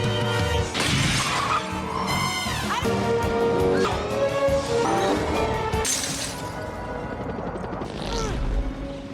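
Glass shatters loudly amid a busy, dense mix of crashes and music-like tones, with several sharp breaking bursts across the stretch.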